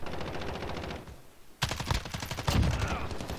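Holger-26 light machine gun fire in Call of Duty: Modern Warfare, rapid automatic bursts with a short pause, then a louder close burst, with light background talk.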